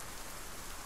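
Steady rain in the DCS World 2.5.0 flight simulator, a dense, even hiss of falling water that fills the whole moment without pauses or voices.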